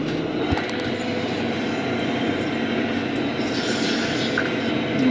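A Deutz-Fahr 6170 RCShift tractor pulls away, its engine a steady, even hum heard from inside the quiet cab, with no talk over it.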